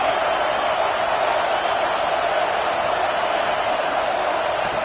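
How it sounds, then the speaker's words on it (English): A stadium crowd at a college football game between the Tigers and Georgia produces a constant, loud roar, an even wall of massed voices with no break. "Listen to the crowd energy here in the early going."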